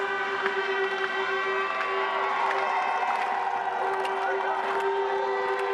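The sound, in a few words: home crowd cheering a slalom skier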